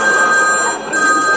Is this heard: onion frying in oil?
no